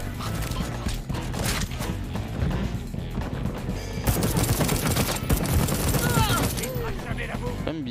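An activated turret firing in the Deathloop video game, a continuous dense rattle of rapid shots under other game noise, with a voice talking over it.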